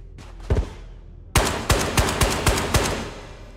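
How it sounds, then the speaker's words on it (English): A rapid series of sharp gunshots rings out in the video game Ghosts of Tabor, one or two early shots followed by a quick volley of about six loud cracks. "Sounds like a lot of gunshots."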